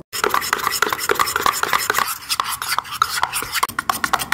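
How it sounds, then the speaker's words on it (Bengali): Gram flour batter being mixed with water in a bowl, a quick, steady scraping and stirring rhythm that stops briefly midway, close and fairly loud with no talk. "এবার আমি অল্প অল্প জল দিয়ে বেসনটা কিন্তু খুব সুন্দর করে একটা ব্যাটার তৈরি করে নেব।"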